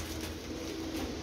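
Pigeon cooing, a soft low throaty coo from a single bird, heard fairly near against a steady hum of background noise.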